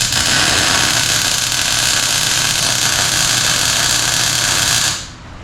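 A tack weld on a shackle mount for a Roxor build gives a loud, steady electric buzz and hiss that holds for about five seconds and then cuts off abruptly, with no talking.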